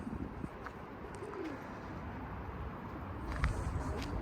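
Soft cooing of Konya pigeons in an outdoor setting, with a few faint bird calls over steady background noise.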